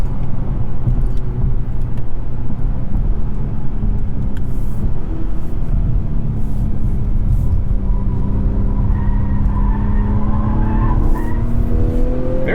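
Turbocharged 2-liter engine of a 2021 Acura TLX with all-wheel drive, droning steadily from inside the cabin on a test drive, with a rising tone toward the end and a constant loud road rumble beneath.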